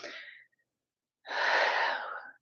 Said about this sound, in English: I'm always sneezing on my live when I work out in the living room.